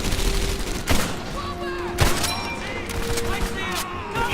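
Scattered gunfire in a Medal of Honor: Airborne battle, with a few sharp shots standing out over a busy, rumbling combat backdrop and occasional rapid bursts.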